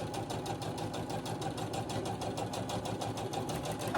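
A sewing machine runs steadily while stitching quilt pieces together, a close, continuous mechanical whir with a fast regular clatter of the needle throughout, no voices over it.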